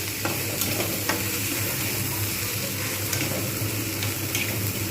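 Spices sizzle with home-roasted coriander-cumin powder for khichuri, a loud continuous fry with occasional spoon scrapes and stirring clicks, no voices.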